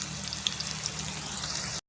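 Onions dropped into hot sunflower oil with garlic, giving a steady, close crackling sizzle with a few pops, cut off abruptly at the end, with no talking.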